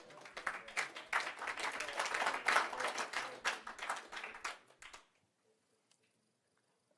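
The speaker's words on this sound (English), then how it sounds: "So you can clap." An audience at a tech talk on robots claps in a dense burst of applause that swells, holds, then tapers off and stops, leaving near silence.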